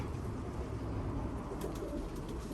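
Young pigeons in a loft give soft, low cooing against a steady hum of background noise, with a few faint brighter sounds near the end.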